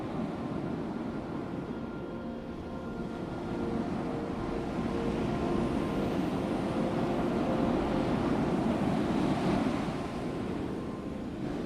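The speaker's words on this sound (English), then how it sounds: "I listen to the waves." Ocean waves washing onto the shore below a headland, a continuous loud roar of surf with gentle swells in intensity, mixed with wind buffeting, and no voices.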